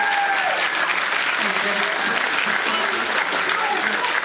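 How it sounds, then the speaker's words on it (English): An audience gives a big round of applause for a guest named Lucas, dense continuous clapping filling the room at steady loudness from start to finish, with voices faintly mixed in. "a big round of applause for Lucas."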